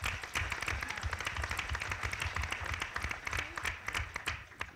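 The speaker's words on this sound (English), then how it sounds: "let's do that right now and give Carrie a round of applause" Audience at a heroin summit in Fond du Lac applauds a presenter, a steady spread of many hands clapping with dense, even patter and a low rumble beneath throughout.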